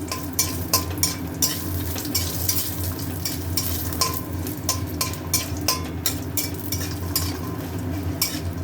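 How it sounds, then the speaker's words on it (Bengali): Lentil nuggets (bori) fry in hot oil in a kadai over a mustard-seed and dried-chilli tempering, sizzling steadily and close while a spatula stirs and scrapes with regular clicks. "বড়িটাকে ভালো করে ভেজে নেব।"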